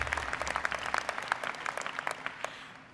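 Steady crowd applause at a university commencement ceremony, many hands clapping at once in a large room, sustained and even before tapering slightly at the end.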